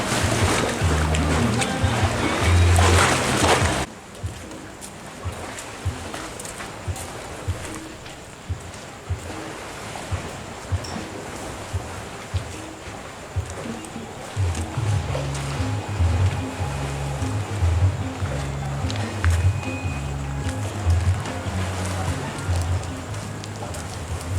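Waves wash against a beach pier at night on the east shore of Pulau Untung Jawa, a steady low surf murmur with a louder rumbling stretch at the start and again toward the end, some faint background voices.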